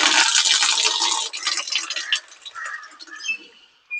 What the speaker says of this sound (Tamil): தண்ணி ஃபுல்லாமே வந்துருச்சு.